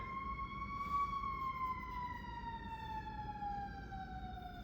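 An emergency vehicle siren wails in the distance, one long, faint, slowly falling tone that drifts steadily downward, heard alone over a low background rumble.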